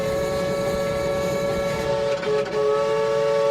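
A loud Murray River riverboat steam whistle sounds one long, steady, multi-toned blast that shifts pitch slightly near the end, with no talking.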